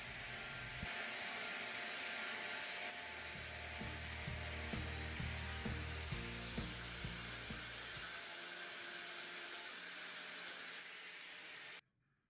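An angle grinder shapes the eye of a hand-forged Viking axe head, whining loudly with a high grinding hiss and rhythmic pulsing bursts as it bites the steel, then cuts off abruptly near the end.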